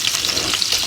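Potatoes sizzle and crackle steadily in a hot dry pan while being turned and stirred, a close, continuous frying hiss with the soft scrape of the pieces shifting.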